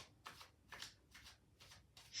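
Playing cards riffled and shuffled close up, five quick evenly spaced bursts of rustling paper, soft and alone.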